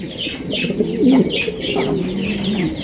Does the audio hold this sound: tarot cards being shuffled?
no